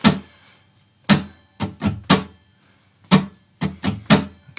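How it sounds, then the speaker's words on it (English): Slow rock strum pattern played twice in a row on an acoustic guitar, each cycle a single accented stroke followed by a gap and a quick cluster of three strokes, close and clear with no voice. "But if I do it over and over, you start hearing the groove."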